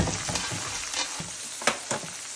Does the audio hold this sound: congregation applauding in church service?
no